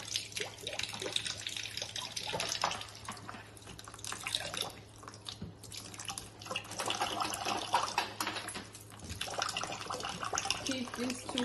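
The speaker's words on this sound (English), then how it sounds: "When the water comes out from the overflow hole, you can stop adding water." Water trickles and drips steadily as it is poured into the coolant reservoir of a fractional CO2 laser machine, a continuous close splashing flow with a low electrical hum underneath.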